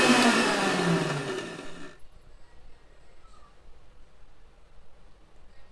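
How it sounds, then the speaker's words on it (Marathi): A mixer grinder whirs loudly as it blends milk, grated coconut and sugar, running for about two seconds before cutting off abruptly into near silence. "याला आपण मिक्सरमध्ये मिक्स करून घेणार आहोत."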